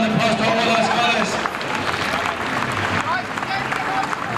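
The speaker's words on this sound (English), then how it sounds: "Give a round of applause to all our scholars." An outdoor crowd at a Birmingham city centre gathering applauds scholars, loud clapping mixed with voices and crowd babble throughout.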